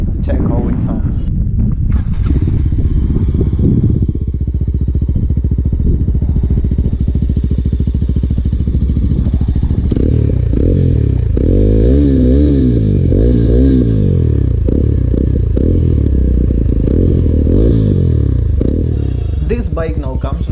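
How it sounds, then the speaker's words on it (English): A Mojo BS6 motorcycle with a raised single exhaust idles with a loud, close, throbbing note, then revs up and down in a few blips midway before settling back to idle. "Let's check out the exhaust sound now, how it sounds."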